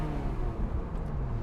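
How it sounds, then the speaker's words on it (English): Ferrari 355 F1 engine revving in neutral, a steady, loud mechanical drone that holds through the moment with little rise or fall, close and alone with no talk. "blip the throttle for passing schoolboys"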